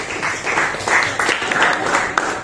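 A classroom of students applauds together, a ragged burst of many hands clapping at close range, steady and fairly loud with a few stray voices mixed in.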